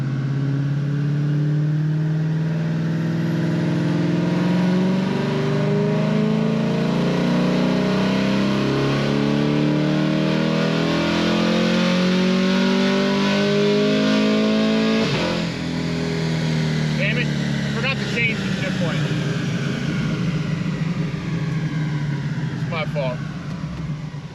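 A 6th gen Camaro with a naturally aspirated engine pulls hard on a dyno, revving loud and climbing in pitch, dropping as it upshifts and climbing again, with voices talking over the roar.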